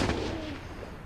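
Gunfire in Call of Duty Mobile during a competitive ranked match, a dense burst of shots over roughly a second, loud and close with no talk over it.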